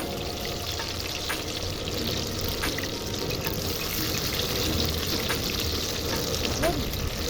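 Water poured into a glass at an outdoor winter picnic, a steady continuous pour against a broad wash of open-air background noise and distant voices.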